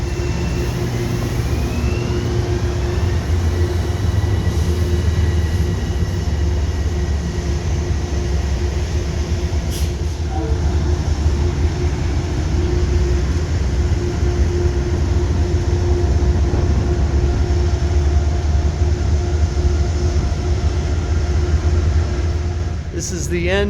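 Steady rumble of a Metro-North Hudson Line commuter train ride aboard classic coaches, with constant low-frequency rolling noise and ventilation hiss, and a faint clank near the end.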